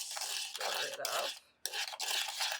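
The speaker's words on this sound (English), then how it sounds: "Stir it up." Homemade sour patch cream cheese being stirred in a bowl, a close scraping, rubbing stir in steady strokes with a brief pause near the middle, no talking.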